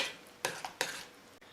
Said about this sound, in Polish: A my teraz postawimy patelnię na rozgrzany palnik i za chwilę będę smażyć łososia.